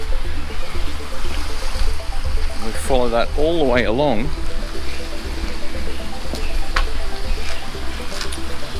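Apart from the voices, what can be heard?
water trickling in a drain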